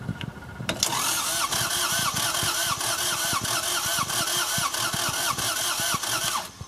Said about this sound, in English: I put the jump box on and it's just cranking